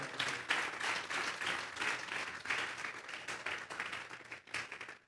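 A church congregation claps as an offering to God, a steady, even wash of many hands sustained for several seconds at moderate distance.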